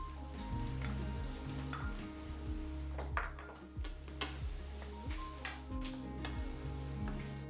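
A tomato and slit chili cooking in a pan for a Jordanian tomato stew (gallayet bandora) give a steady sizzle with occasional light clinks and taps of a utensil, close and even throughout.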